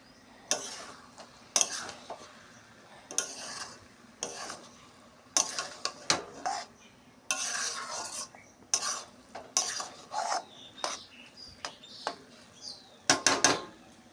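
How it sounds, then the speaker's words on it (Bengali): Prawn pulao is stirred in a pot on the stove, many quick close scrapes and metallic clinks of utensil against metal coming in irregular bursts, with brief pauses between and no talking. "দিয়ে ভালো করে নাড়িয়ে আবার ঢেকে দেবো।"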